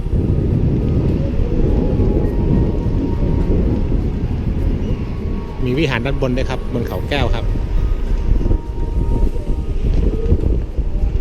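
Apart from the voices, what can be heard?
strong wind on a hilltop, wind noise on microphone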